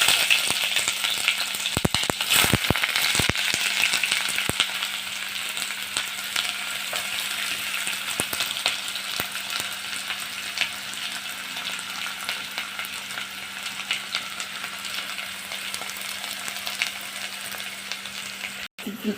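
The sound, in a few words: onions frying in oil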